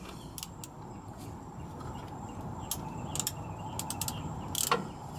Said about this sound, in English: snug up these two bolts.